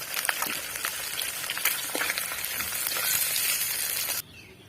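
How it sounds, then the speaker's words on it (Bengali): Koi fish frying in hot oil in a pan, a loud, steady sizzle with crackles and spits that stops abruptly near the end. "আমার মাছগুলো দুপাশ ভালো করে ভাজা হয়ে গেছে।"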